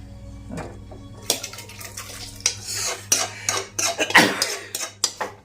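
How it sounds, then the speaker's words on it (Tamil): A prepared tempering is poured into potato and chana dal kurma, giving close metallic clinks, scrapes and stirring knocks from a pot and spoon in irregular bursts, with no talking. "இப்போது நம்ம அந்த தாளித்து வச்சுருக்கோம்ல, அதை எடுத்து நான் இதில் ஊற்றிடுறேன்."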